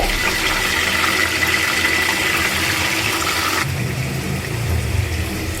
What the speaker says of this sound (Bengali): এখন চিকেনটা ভেজে নেবে, লাল লাল করে ভেজে নেবে